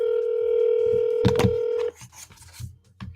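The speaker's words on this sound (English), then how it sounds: "Can you guys hear that ringing?" A steady electronic telephone ringing tone hums over the line for a couple of seconds, then cuts off, leaving scattered clicks and faint handling noises.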